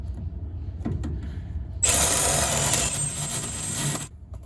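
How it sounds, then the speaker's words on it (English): A hand reamer cutting out a bolt hole for a Model A Ford ground wire, starting with a few faint clicks and then giving a bright, raspy grinding scrape for about two seconds at close range. "I'm gonna ream this out just a little bit"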